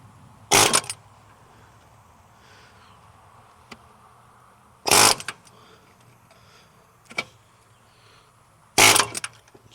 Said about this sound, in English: we're going to hit it with the air hammer while we're holding our chain wrench and holding that pulley in place